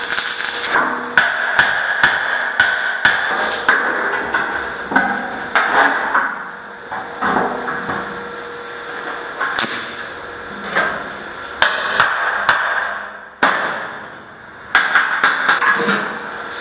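Repeated hammer blows straightening a badly warped steel rim on heavy equipment under restoration in a metal fabrication shop, sharp ringing metallic strikes in irregular bursts with brief pauses, close and loud, no talking.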